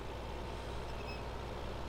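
Steady low rumble of a tractor engine in Farming Simulator 15, running at an even drone with no change in pace, alone and unbroken by talk.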